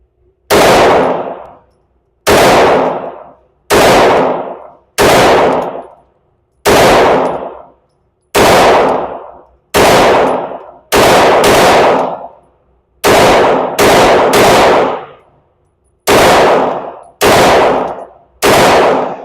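A Glock pistol fires a string of loud, sharp shots at a shooting range, roughly a dozen evenly spaced reports, each ringing briefly before the next, with a couple fired in quicker pairs.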